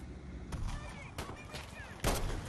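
Gunfire in Battlefield V, a few sharp distant shots spaced through a short burst of battle noise, the last one louder and closer.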